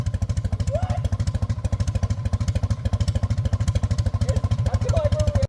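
A 77-year-old airplane engine idles at a very low 400 RPM, a loud, close, evenly spaced chugging pulse like a slow tractor, running steadily throughout with faint background sounds.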